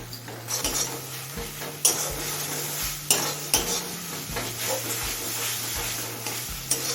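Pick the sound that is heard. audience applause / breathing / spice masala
spice masala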